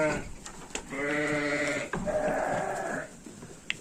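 Sheep bleat loudly and repeatedly inside a barn, several overlapping calls close by with a harmonic, wavering tone, in a rural mountain village setting.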